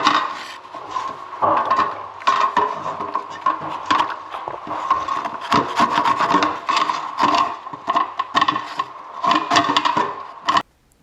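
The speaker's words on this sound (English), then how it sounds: "we're going to get the old screwdriver in there, give it a good scrape out, get as much of that off as possible" A screwdriver scraping hard limescale out of a drain trap, with gritty rasping strokes repeating in an uneven rhythm, close and loud, until it stops abruptly at the end.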